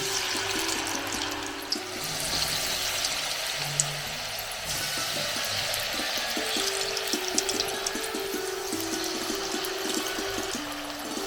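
Rava vada batter sizzling in hot oil on a low gas flame, a steady even crackle and hiss that holds close and continuous throughout, with no voices.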